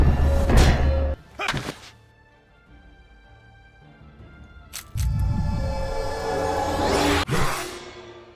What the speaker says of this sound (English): I just love the thud sound.